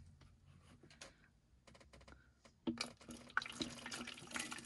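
Water is poured to soak a Barbie doll, starting faint and then rising into a brief, louder splashing trickle after a quiet stretch of small clicks.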